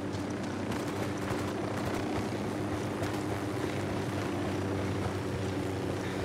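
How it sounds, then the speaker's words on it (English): Helicopter in the Ghost Recon Wildlands video game, a loud close rotor and engine drone with rapid chopping pulses, steady throughout. "Down! Get down! Chopper!"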